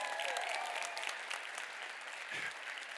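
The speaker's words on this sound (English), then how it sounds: "Give him a round of applause." A crowd claps steadily in a room, fairly faint and even, dense applause with no talking over it.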